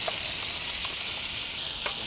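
Lobster pieces sautéing in a pan over a smoky wood fire on a beach, a steady bright sizzle with a few faint pops and one sharper crackle near the end.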